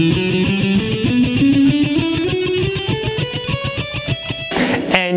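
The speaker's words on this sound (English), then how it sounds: "you pick every note of it twice" An electric guitar plays a scale with every note picked twice, producing a rapid, even stream of paired plucked notes stepping upward and back, close and clear, ending with a brief noisy burst.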